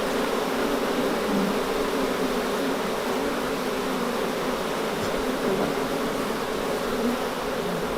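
A colony of some 40,000 honeybees being moved into a new hive gives a dense, steady, close buzzing drone that continues unbroken from start to finish, with no voices.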